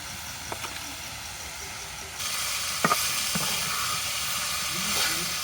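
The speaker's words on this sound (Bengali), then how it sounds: "এবার মূলাতে মাছগুলো দিয়ে দেবো" Snakehead fish frying in a pan with radish, a steady close sizzle with a few brief stirring clicks and scrapes, growing slightly louder partway through.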